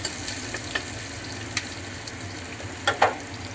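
Onions frying in hot oil with dried chili and home-grown bay leaves for a cracked-wheat khichuri breakfast, a soft steady sizzle broken by a few sharp crackles and stirring clinks, no voices.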